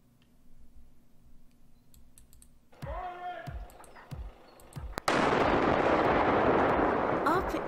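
Controlled detonation of a WWII German bomb in Exeter, England: quiet clicking and a few sharp pops, then a sudden heavy blast at about five seconds followed by a loud, sustained roaring rumble, with speech mixed in.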